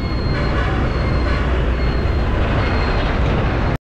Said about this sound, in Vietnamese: Đây chỉ là tuyến đường sắt trên cao thôi.